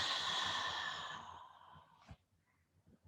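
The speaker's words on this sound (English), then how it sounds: "simply breathing in through the nose and exhaling" A long, breathy exhale through the mouth fades out over about two seconds, close and soft, during a guided relaxation exercise, followed by a short sniff and quiet stillness.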